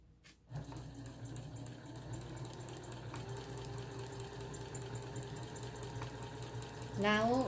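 A Kenmore Sensor Sew 70 sewing machine runs steadily while stitching decorative patterns, a continuous close mechanical hum and rapid needle clatter lasting throughout, rising in speed near the end.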